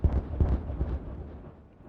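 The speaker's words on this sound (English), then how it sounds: "That's a good explosion." Explosives set off in the beaver colony-building game Timberborn, giving a few deep booming blasts in quick succession that roll off into a low rumble and fade out.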